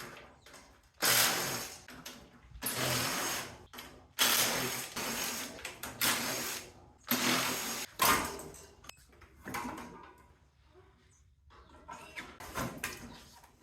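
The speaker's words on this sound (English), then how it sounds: "first thing we're gonna do is just take out all these screws holding it together, get all the metal housing off of it" Screws are removed from the metal housing of a central air conditioning unit being scrapped, heard as loud, close bursts of whirring, ratcheting driver noise separated by short pauses.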